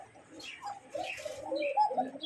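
Domestic and foreign breed pigeons kept for sale coo in low, throaty repeated calls, fairly close, with a few soft chirps mixed in and no talking.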